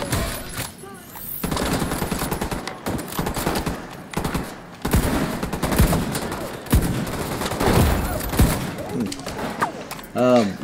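Turret gunfire in a video game, rapid bursts of loud automatic shots in uneven rhythm, close and punchy, interleaved with thuds and people talking over the action.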